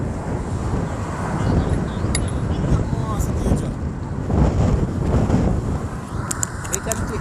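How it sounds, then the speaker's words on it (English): Wind buffets a fishing boat off Jamaica, roaring in loud gusts against the microphone, with low rumbling underneath and people talking over it. "That's windy."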